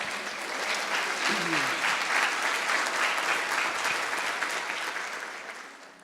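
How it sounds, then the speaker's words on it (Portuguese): A church congregation applauds steadily for several seconds after a sermon, a dense wash of clapping that fades toward the end, with a voice briefly heard underneath. "Vamos aplaudir a Jesus?"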